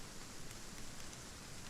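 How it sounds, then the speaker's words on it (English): Heavy rain pours down in the survival video game Aska, a dense, even hiss of falling water that holds steady throughout with no voices over it. "It's really pouring right down, isn't it?"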